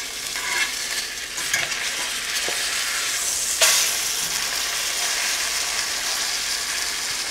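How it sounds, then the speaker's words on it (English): Wild Alaskan salmon fillet searing in butter in a pan, a loud, steady close sizzle with a brief sharper hiss partway through as it is turned, no voices. "I'm going to flip it one more time just to get that butter on both sides"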